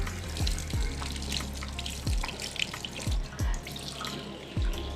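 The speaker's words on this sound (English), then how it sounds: "And now you're ready to rinse your hands." Hands being rinsed under a running faucet during handwashing, a soft steady trickle of water with several low splashing thumps, close and fairly quiet.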